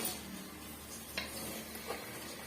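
A spoon stirs soaked basmati rice and water in a pot while making tomato rice, producing a faint, soft scraping swirl with a couple of brief metallic clicks against the pot, quiet and close.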